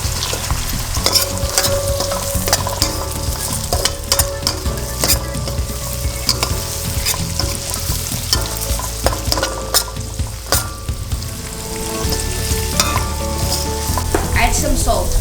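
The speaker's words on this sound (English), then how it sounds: "Once it gets soft, add your garlic. We're adding whole garlic." Whole garlic cloves fry in a pan of oil for fish pickle, giving a loud, dense, continuous sizzle with frequent crackles and occasional stirring scrapes, close up and with no talking.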